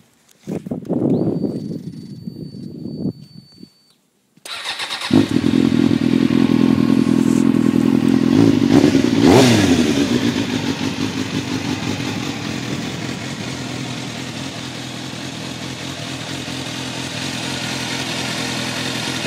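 A 2002 Suzuki GSX-R 750 motorcycle cranks briefly, then fires up with a loud burst, revs once, and settles into a steady, close idle that carries on alone to the end.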